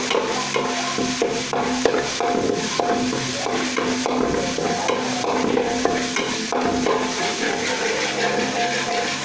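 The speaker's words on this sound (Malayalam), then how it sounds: "ഇഞ്ചി പേസ്റ്റ് ചേർത്തിരിക്കുകയാണ്" Ginger paste sizzles steadily in a hot pan for a biryani, with a spoon scraping and stirring through it in a continuous dense frying hiss, close and fairly loud.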